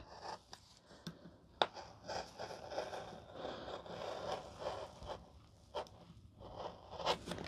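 Scissors cut a curve through fabric during a sewing project, giving faint, close, irregular snips and crisp crunching strokes.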